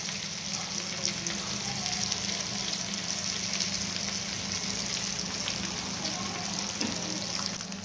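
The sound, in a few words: ragda patties frying in a pan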